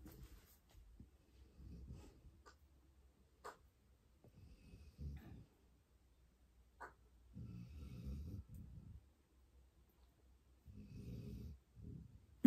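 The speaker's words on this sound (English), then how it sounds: "Excuse the snoring." Low, rumbling snores come in slow, irregular bursts with quiet gaps, faint and close, with a few soft clicks in between.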